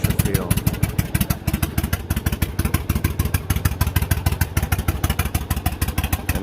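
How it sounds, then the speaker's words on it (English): A Yamaha motorcycle engine idles close by with a loud, steady, loping beat, its rapid uneven firing pulses giving a galloping rhythm throughout. "And it sounds good. Got a nice galloping sound."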